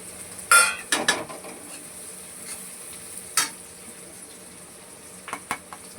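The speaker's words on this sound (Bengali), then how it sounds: "পেঁয়াজটা একটু হালকা করে ভেজে নেব।" Onion frying lightly in a pan for a papda fish dish: a soft, steady sizzle with a few sharp clinks and scrapes of stirring early on and near the end, no voices.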